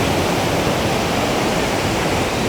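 Waterfall at Thirumoorthy Hills near a dam, heavy water pouring down in a loud, steady, close roar with no pauses or voices.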